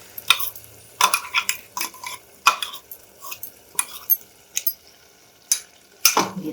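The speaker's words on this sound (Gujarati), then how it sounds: "ટામેટા ડુંગળી સાથે દાળને આપણે પહેલાં થોડી ચલાવી દઈશું" A spoon stirs and scrapes dal paste through softened tomatoes and onions in oil over high heat, making a string of sharp scraping strokes and clinks with a faint sizzle between them.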